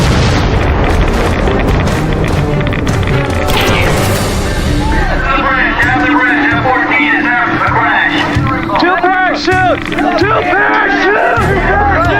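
A $36 million military jet explodes into a fireball with a loud booming roar and crashing blast noise, while a crowd murmurs and voices call out throughout.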